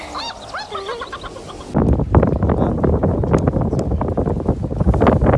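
Strong wind buffets the microphone on a lake during bass fishing from a boat: a loud, steady broadband roar that rises abruptly after a short, quieter opening with bird calls.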